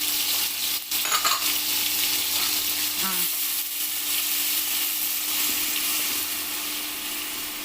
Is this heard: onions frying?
yes